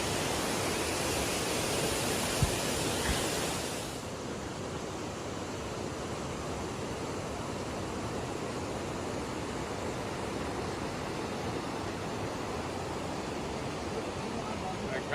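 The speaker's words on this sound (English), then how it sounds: "Actually, you get a bit of a spray off on the waterfall here." Waterfall spray on a walking track in rural Enshi County, Hubei Province, China, a loud steady rushing hiss that fills the whole clip, slightly softer after the first few seconds, with no speech.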